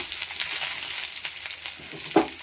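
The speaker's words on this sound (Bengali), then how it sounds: "আলুর সঙ্গে বেগুনটা ভালো করে ভেজে নিতে হবে।" Potato and eggplant fry in oil in a pan, giving a steady bright sizzle with light stirring scrapes and one sharper clink near the end, close and continuous.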